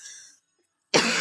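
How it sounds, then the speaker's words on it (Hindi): One person coughs sharply from dust, a short loud burst that starts abruptly after a near-silent pause and follows a fading sound at the start. "मुझे खांसी बहुत हो रहा है, शायद गर्दा मट्टी के कारण।"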